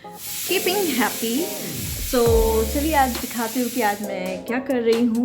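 A kitchen pressure cooker gives off a steady, continuous hiss throughout, sitting in the background beneath someone talking clearly in the foreground.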